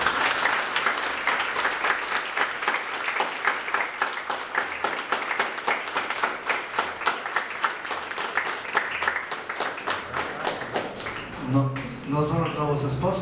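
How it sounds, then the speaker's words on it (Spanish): Sustained applause from a gathered crowd celebrating a couple's 50th wedding anniversary, dense steady clapping for about eleven seconds before fading as voices and music-like tones take over. "Les damos un fuerte aplauso."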